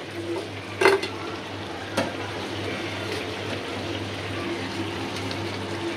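Pabda fish frying in a pan gives off a low, steady sizzle, broken by a couple of sharp clanks and scrapes as a utensil stirs.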